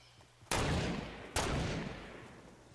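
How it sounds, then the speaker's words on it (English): Two loud, close gunshots in the video game Fortnite, each a sharp crack followed by a long, fading rumbling tail. "they're getting shot."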